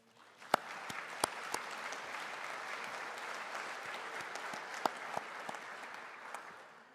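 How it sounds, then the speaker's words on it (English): A graduation ceremony audience applauds steadily for seven seconds, a broad continuous wash of clapping with a few sharper claps standing out near the front. "Can we give them a round of applause again?"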